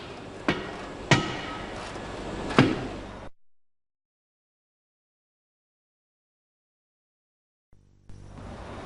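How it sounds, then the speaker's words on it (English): A dead blow hammer strikes three times in an automotive workshop, each blow a solid, dull thud with no ring, followed by silence. "This is a dead blow hammer."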